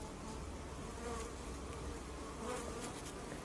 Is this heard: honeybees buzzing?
yes